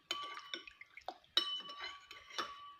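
Glass and spoon clinks with light liquid sounds as tomato sauce is stirred with boiled water in a bowl, several distinct taps spaced irregularly, close and fairly quiet, no talking.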